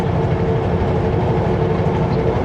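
Train rolling past on the track near Kamloops, a steady loud rumble with low clatter throughout, no voices.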